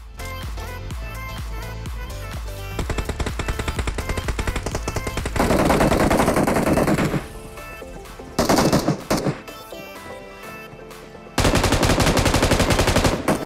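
M249 light machine gun in BGMI firing in long, loud, rapid automatic bursts separated by brief pauses, close and dominant, with no talking.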